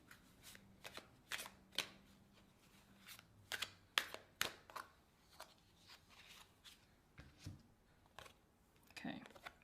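A deck of oracle cards is shuffled by hand in a quiet room, repeated crisp riffling bursts and soft taps coming in an uneven rhythm, close up.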